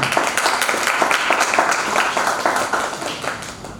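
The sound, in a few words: audience clapping at a university event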